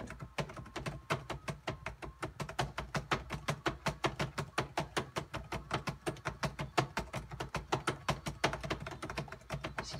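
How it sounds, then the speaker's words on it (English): Computer keyboard keys clack in a fast, steady rhythm for the full stretch, sharp and close, each press a distinct tap as the player keeps time with a rhythm game. "This keyboard sounds like garbage."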